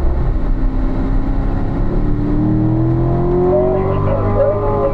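A car engine accelerates on a track, its rising tone climbing steadily as the throttle opens, loud and close with a continuous droning roar.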